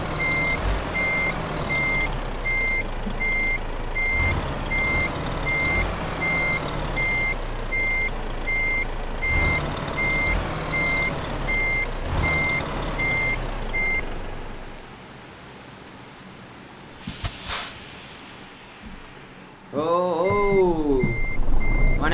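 Rapid, steady reversing beeps from a truck in Euro Truck Simulator 2 repeat loudly over engine rumble, then stop; a hiss like an air brake follows and the engine roars back.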